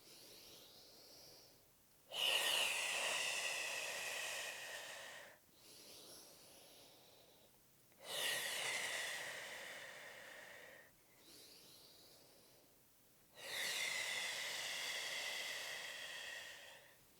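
Slow, deep breathing during a pregnancy pelvic floor stretch, three long, soft, airy breaths spaced evenly with quiet pauses between, close and gentle with no talking.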